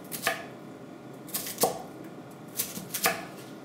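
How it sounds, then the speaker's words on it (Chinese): Knife dicing lotus root on a cutting board, a few crisp chops in small clusters of one or two, close and distinct against a quiet kitchen background. "再切成丁"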